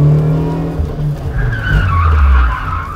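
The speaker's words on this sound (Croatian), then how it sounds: "Tu se zaleti i okreni ga pod ručnom." A car skids through a handbrake turn around cones, tires squealing loudly over the low roar of the engine, close by.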